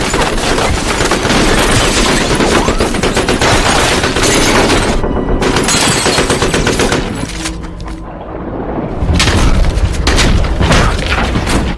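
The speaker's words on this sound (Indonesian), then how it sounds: "Di luar, Kegan dengan pasukannya langsung membombardir tempat John." Film action scene of troops bombarding a hideout: relentless loud machine-gun fire and booming explosions, a short lull with rumbling, then another heavy blast and more gunfire.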